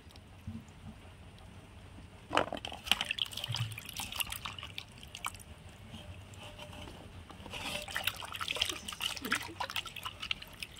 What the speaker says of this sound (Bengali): তো এবার আমি ভালো করে কিন্তু আমি তুলে নেবো জল ঝরিয়ে